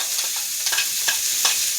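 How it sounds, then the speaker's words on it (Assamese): Dried fish fries in oil with onion in a wok, a soft steady sizzle broken by several brisk scraping stirs, close and alone with no talking. "এনেদৰে শুকান মাছ ভাজি আছোঁ"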